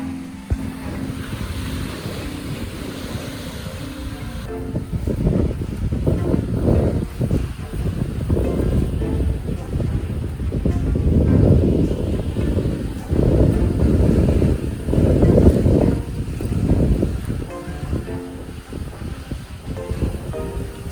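Surf washes steadily onto a clean, scenic beach, with broad rushing swells rising and falling over continuous wind buffeting against the microphone, no voices present.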